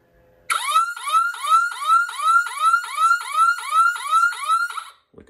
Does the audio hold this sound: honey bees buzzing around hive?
no